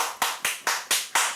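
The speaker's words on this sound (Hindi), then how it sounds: "ताली क्या बजा रहा है?" A person claps hands five times in a steady rhythm, the claps sharp, close and moderately loud, with no talking. The scene is a comedy show and the clapping is a congratulation after a bet is won.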